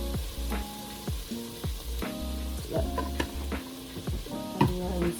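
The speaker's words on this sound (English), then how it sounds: "the pork is cooking" Pork fries in a pan for chili, a loud close sizzle with crackling pops, stirred now and then so the frying briefly surges, and no voices heard.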